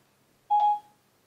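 An iPhone gives a single short, clean confirmation beep as Siri sets a 20-minute timer, quiet and isolated against near silence.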